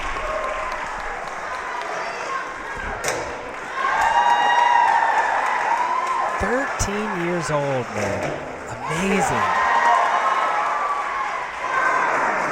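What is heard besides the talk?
crowd cheering and applauding an obstacle competitor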